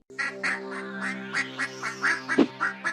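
A cartoon goose quacks in a quick, regular run of about ten nasal honking calls, close and clear, ending in a louder, harsher squawk.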